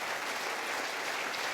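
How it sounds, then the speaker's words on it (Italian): Dense, sustained clapping from a large audience at the inauguration of a 300mm wafer factory, even and full throughout with no voices over it. "Give me a big applause."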